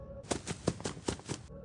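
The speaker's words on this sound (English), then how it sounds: "Him moving to the right hall sounds like this." A short burst of six or seven quick, muffled thumping footsteps in a steady run, faint and hollow, with no voices.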